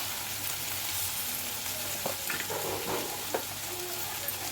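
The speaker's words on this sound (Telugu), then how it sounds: "బెండకాయ ముక్కలు అయితే నూనెలో మంచిగా గోలినాయండి" Okra pieces fry in oil with a steady, close sizzle throughout, and a few soft stirring scrapes and clinks come partway through, with no talking.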